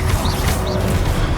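A Confringo blast spell fires in Hogwarts Legacy, a loud crashing burst with two brief whooshing swirls over a dense, steady game background, heard alone without talk.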